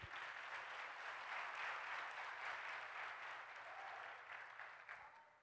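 A church congregation applauds in a steady, dense wash of clapping that stays even throughout and fades slightly at the end, heard from a distance.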